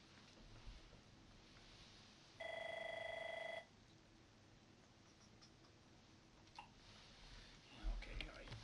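A telephone rings with one electronic ring lasting about a second, clear and steady over faint room noise, followed by small desk sounds.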